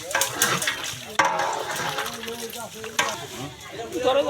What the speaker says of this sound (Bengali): মশলা মিক্স করা হইতেছে